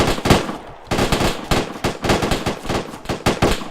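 Rapid bursts of blank or live rifle fire during an infantry section attack drill, loud, dense volleys of sharp cracks in uneven clusters, close by, with no talk over it.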